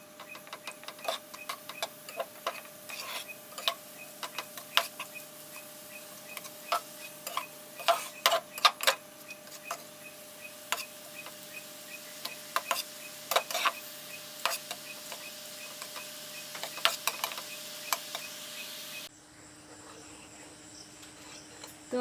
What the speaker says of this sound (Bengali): আমি এই পর্যায়ে একটা চামচের সাহায্যে এইভাবে করে আমগুলো চেপে চেপে নেড়ে দিচ্ছি।